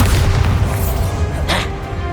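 A Bombarda spell explosion in the Hogwarts Legacy video game, a loud, deep booming blast with a rumbling tail and a brief sharp burst partway through.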